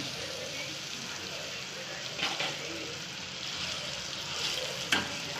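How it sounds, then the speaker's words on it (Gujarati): Pav bhaji masala sizzling in oil in a pan as it is stirred, a continuous close frying hiss with occasional scraping and clinking of the spoon against the metal. "હવે એને બરાબર હલાવી લેશું આપણે"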